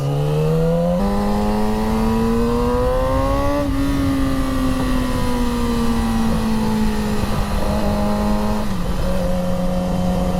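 A Yamaha R6 motorcycle on new tires runs with a loud, continuous engine drone that climbs through gear changes, holding a strong steady pitch with brief shifts, heard alone.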